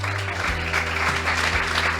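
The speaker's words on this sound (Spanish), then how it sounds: "le damos la bienvenida con un fuerte aplauso" Steady clapping from a group at a talk on veganism fills the whole moment, a continuous patter of hands with a low hum underneath.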